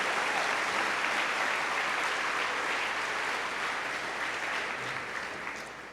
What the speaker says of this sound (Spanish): ¿Quiere aplaudirlo? Apláudalo.